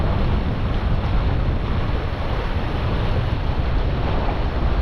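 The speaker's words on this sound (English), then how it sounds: "The wind unfortunately is blowing already stronger than it was predicted" Strong wind gusting over a remote island shoreline at sunrise, loud continuous broadband roar buffeting the microphone, mixed with surf, steady with no pauses and no voices.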